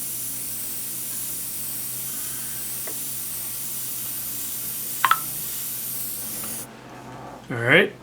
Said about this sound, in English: So again, I'm working hard to spray dry, working from further away than I normally would.